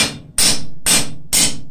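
Hammer blows on hot metal while forging bevels into a blacksmith's cross, three sharp ringing strikes in a steady rhythm, close and loud with no talk.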